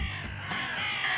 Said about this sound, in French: Ils font exprès ces oiseaux-là.